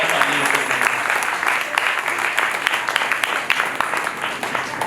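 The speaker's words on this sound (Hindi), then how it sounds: "उनके लिए जोरदार तालियों को।" Hearty audience applause at a Janmashtami festival held by an Arya Samaj congregation, steady dense clapping sustained for several seconds, fairly loud and close, with some voices mixed in.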